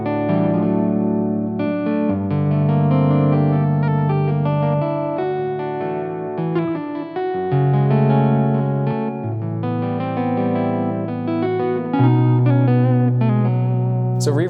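A harpejji is played through a short delay and reverb pedals, sustained layered chords ringing out continuously with a full, smeared tail between changes.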